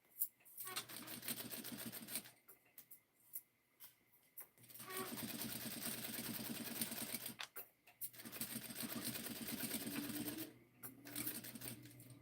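A sewing machine stitches a collar band in bursts of rapid, even mechanical whirring separated by short pauses. It is close and clear, with soft handling clicks between the runs.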